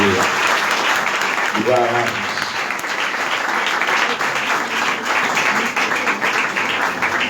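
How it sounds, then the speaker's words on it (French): A church congregation applauds the Lord at a fifteenth-anniversary service, with sustained, dense clapping filling the room while a voice speaks briefly over it. "En nous applaudir le Seigneur"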